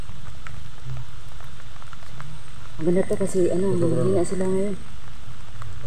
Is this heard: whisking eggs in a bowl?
no